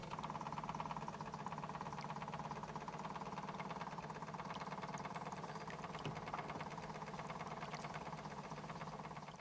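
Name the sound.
gas burner cut-off test on old model steam boat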